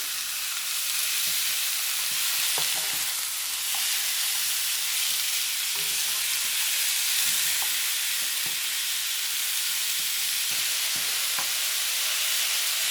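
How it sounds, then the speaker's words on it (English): Beef browns in a hot pan for a slow cooker beef curry, giving a steady, dense sizzle and crackle that runs unbroken throughout, with faint stirring clicks here and there. "We're just going to brown up the beef."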